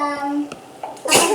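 A single sharp sneeze bursts out close to the microphone, loud and brief, just after a short stretch of voiced sound.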